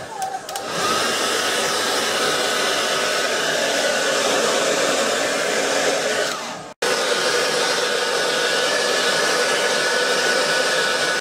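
A hair dryer blows steadily and loudly at close range while drying hair straight, a continuous rushing whir that cuts out for an instant near the middle and resumes, with no talking.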